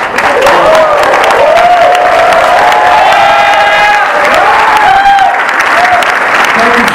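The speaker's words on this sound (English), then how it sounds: "Thank you for that mediocre applause" Convention panel audience at New York Comic Con 2013 for The League cast, a crowd clapping and cheering with whoops and shouts over a loud, continuous wash, some tonal voices rising above the applause.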